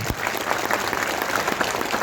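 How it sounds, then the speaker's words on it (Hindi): A large crowd at a mass political gathering claps in a thick, sustained roar of applause that stays even and loud from start to finish. "जोरदार तालियां बजाकर है जो स्वागत है।"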